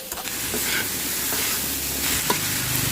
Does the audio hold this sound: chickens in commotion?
no